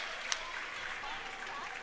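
Faint applause from the stands for the winning side at a Serie A2 hockey match between Seregno Hockey and Tierre Chimica Montebello, a soft, steady patter of clapping heard from a distance with one sharper clap near the start.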